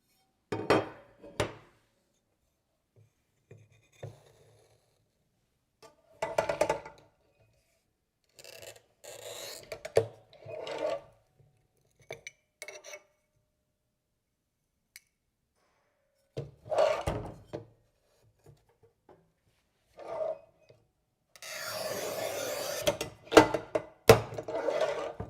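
A Montolit Masterpiuma P5 tile cutter works a glass tile on a rubber mat, giving short bursts of scraping, rasping and clacking with quiet gaps between them and a longer gritty stretch near the end. No one speaks.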